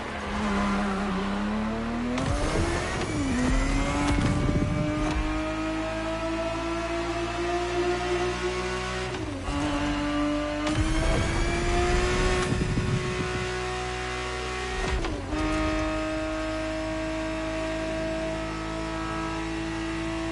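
A Ferrari 365 GTB4 from the 1970s roars through a racing video game, its engine revving hard and steady, pitch climbing through gears with sharp drops at each shift, loud and continuous.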